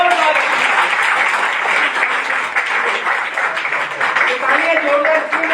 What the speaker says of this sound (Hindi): जोरदार खुद के लिए तालियां बजा दीजिए